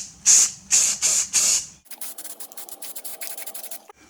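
Spray primer goes onto a masked Craftsman part in four short, loud hissing bursts, followed by softer scratchy rubbing sounds close by.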